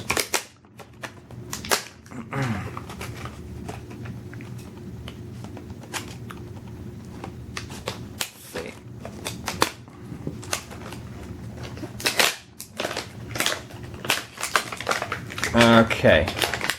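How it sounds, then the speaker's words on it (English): Plastic clamshell packaging around a collectible toy being cut open, giving a run of crisp clicks, snips and crackling plastic handling, close and fairly loud, with irregular bursts and short pauses. "I'm going to have to cut this open since it's like a clamshell casing."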